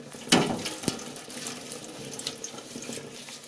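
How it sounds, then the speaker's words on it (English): Tap water runs in a sink while relaxer is rinsed from hair, a steady splashing wash with a couple of sharper knocks near the start, close and moderately loud. "I just have to wash out every bit of relaxer for my hair"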